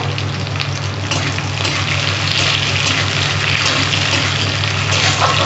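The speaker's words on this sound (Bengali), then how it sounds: "ফোড়নটা হয়ে গেছে ভাজা, এবার আমি এই পেঁয়াজগুলো দিয়ে দিচ্ছি" Onions tipped into hot oil with fried tempering spices hiss in a loud, steady sizzle for a dish of prawns with poppy seed, heard alone with no talking.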